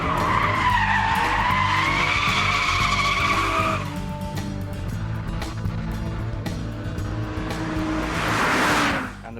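A MINI Cooper S JCW GP cornering hard on a track, its tyres squealing in long wavering howls over the engine's drone, easing off midway, then a rising surge of tyre noise near the end.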